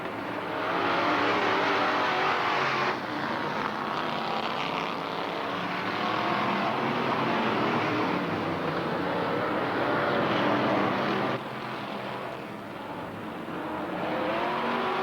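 Stock cars race around Hickory Speedway on opening night in 1996, a dense, continuous roar of several engines rising and falling as the pack passes, loud and steady throughout.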